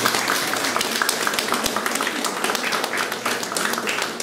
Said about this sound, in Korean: 격려의 박수 한번 보내주세요.